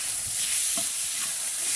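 Tomatoes go into a hot pan for a Thai sardine salad, a steady bright sizzle with soft scraping of stirring throughout.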